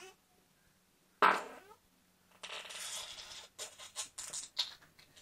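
A wet fart noise: one sharp, loud burst followed by a spluttering, crackling stretch of uneven bursts, close and alone.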